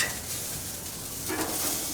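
Hot dogs searing on a grill out on an apartment balcony, a soft continuous sizzle and hiss at low level with no talk.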